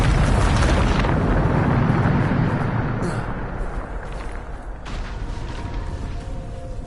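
Bombarda spell explosion in Hogwarts Legacy, a loud booming blast with rumbling debris that slowly fades into a lower crackling tail.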